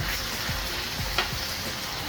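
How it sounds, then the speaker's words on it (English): Quiet, continuous sizzling of meat on a grill, a soft crackling hiss with a few faint scrapes and clicks. "Yeah, you hear that sizzling, alright."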